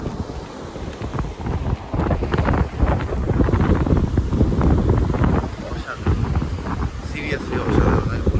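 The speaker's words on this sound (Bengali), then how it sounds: "প্রচণ্ড হাওয়া দিচ্ছে, ছাতাটাকে কোনোভাবে আমি ধরে রেখেছি।" Strong wind sweeps Mandarmani beach in the rain, buffeting the microphone with loud rumbling gusts over a restless wash of sea and waves that rises and falls throughout.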